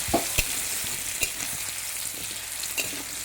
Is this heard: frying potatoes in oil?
yes